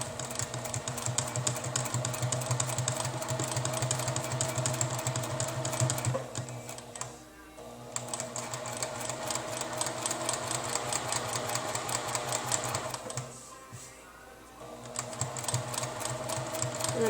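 A Juki TL2010Q sewing machine stitching along the edges of labels, running in fast, even bursts with two brief pauses between runs, close and steady, with no talk.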